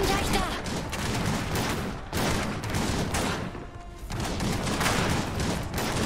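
Dense, rolling gunfire from a battle in the video game Iron Harvest, bursts of rapid shots and booms overlapping almost continuously, with brief dips between volleys and voices mixed in.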